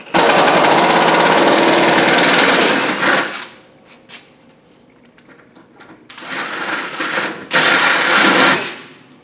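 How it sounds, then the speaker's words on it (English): A pneumatic impact wrench hammers at a rusted clip nut on a junkyard Cadillac, loud and close in two long rattling bursts separated by a quieter pause. "I'm going to give it a shake with the old impactor."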